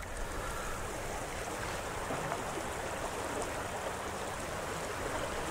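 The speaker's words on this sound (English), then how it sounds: "Just wanted to get a look at this river" A small river runs past a campsite in Minnesota with a constant broadband rush of flowing water. Some wind noise mixes in, and no voices are heard.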